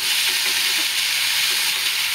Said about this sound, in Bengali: দিয়ে আর কিছুক্ষণ ধরে এটাকে আমি ভেজে নেব